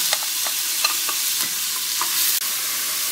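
Onions hit hot fat in a pot for boeuf bourguignon, frying with a bright, constant sizzle broken by light scraping strokes as they are stirred, close and clear with no talking.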